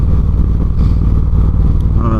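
A motorcycle being ridden gives a steady, loud engine drone with low rumbling throughout, close to the microphone, with no break in the sound.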